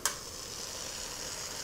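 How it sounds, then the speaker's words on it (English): Onions cooked down to dark golden brown are stirred in a pan, giving a brief, quiet hiss of sizzling with a soft scrape at the start. "I've been stirring my onions."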